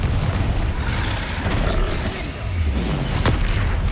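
Confringo blast spell in the Hogwarts Legacy video game, a loud, dense rumbling explosion with sustained booming low end and crackling bursts throughout amid game combat noise.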